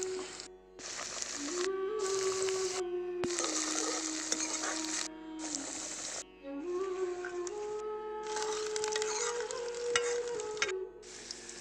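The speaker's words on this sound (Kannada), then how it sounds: "ಈರುಳ್ಳಿ, ಬೆಳ್ಳುಳ್ಳಿ, ಮೆಣಸಿನಕಾಯಿ, ಮೆಣಸಿನಕಾಯಿ ಹುರ್ಕೊಳ್ಳಿ" Onion, garlic and chilli frying in a pan for a village-style bassaru, a steady close sizzle broken into repeated stretches by stirring, with a sustained tonal hum running underneath.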